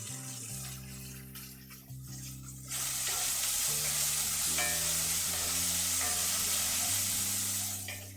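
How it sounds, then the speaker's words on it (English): Mushrooms sear in a salted pan over high heat for stroganoff, a loud steady sizzle rising after a few clinks and scrapes of utensils and cookware. "we're gonna use high heat and practically fry these."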